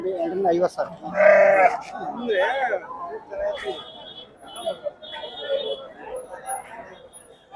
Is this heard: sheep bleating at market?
yes